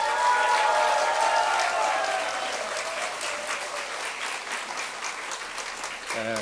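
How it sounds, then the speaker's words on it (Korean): A church congregation applauds as the senior pastor comes forward at a mothers' prayer meeting, starting loud and full and gradually easing off, with a brief low sound at the very end. "목사님 나오실 때 요거보다 훨씬 더 큰 박수 부탁드리겠습니다"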